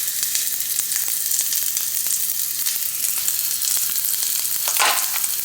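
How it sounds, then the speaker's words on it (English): Cabbage sears in hot olive oil in a pan, a loud, steady sizzle and crackle with scattered pops throughout and a brief louder burst near the end. "I'm going to place the cabbage in here so we can get a good sear on the cabbage"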